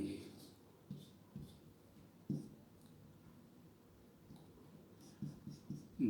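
Chalk or marker strokes tap and scratch faintly on a board in a physics lesson, with short scattered bursts of writing under a quiet room tone and a voice talking.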